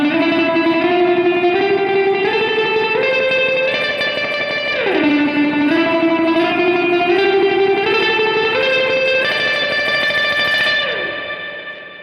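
Sustained guitar chords wash through a Donner Yellow Fall 2 reverb pedal with the decay set high, shifting pitch a few times as a long, dense reverb tail swells beneath them, then fades out at the end.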